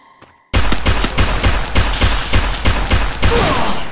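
Rapid bursts of gunfire in GTA 5 (Grand RP), about a dozen evenly spaced shots ringing out loud and close after a brief quiet start.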